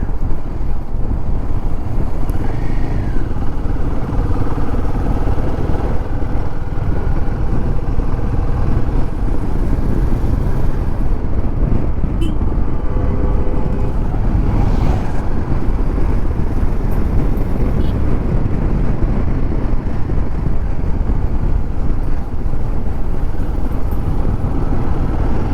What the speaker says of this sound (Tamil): அப்படியே வளைஞ்சு சும்மா வெறித்தனமாக போகுது வண்டி.